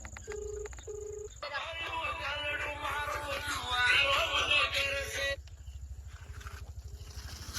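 A phone dials out for a call: two short electronic beeps, then a stretch of voices and chatter, then softer repeating ring tones.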